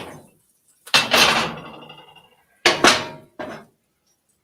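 A pan is set on the back eye of a woodstove to heat for searing steaks, giving a few close, sharp metallic clunks and scrapes separated by quiet gaps.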